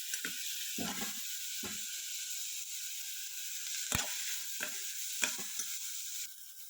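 Mixed vegetables frying and being stirred in a pan until soft, a soft steady sizzle broken by several sharp scrapes and knocks of a spoon against the pan.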